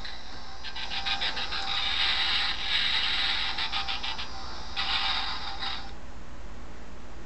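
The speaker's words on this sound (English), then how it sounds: "The big gun. Not exactly the best sound effects for it, though, in my opinion." Electronic gun sound effect from a DOTM Ultimate Optimus Prime toy's big gun: a tinny, buzzy burst of blaster noise lasting several seconds, repeated after a short pause, fairly loud and alone with no talking.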